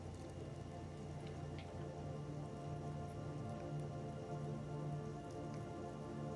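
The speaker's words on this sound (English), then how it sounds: "it sounds like we just got hit with torrential downpour." A torrential downpour of rain, a steady dense patter of drops on a surface with a low constant hum underneath, fairly faint and with no voices.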